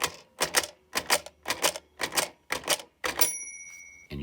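A Child Guidance Sesame Street Marble Computer toy clacks through its mechanism in a rapid run of about seven evenly spaced plastic clicks, followed by a brief ringing tone and a final knock, close and crisp.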